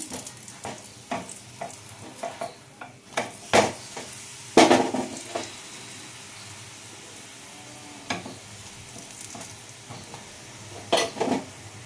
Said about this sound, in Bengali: এবারে আমি একটু সাদা তেল দিয়ে ভেজে দিচ্ছি এটা